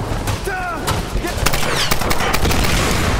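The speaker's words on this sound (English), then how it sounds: "Those are some explosions." Rapid bursts of gunfire and blasts from combat in the video game Tomb Raider: Definitive Edition, loud and dense, with a short whistling tone early on and a continuous noisy battle bed.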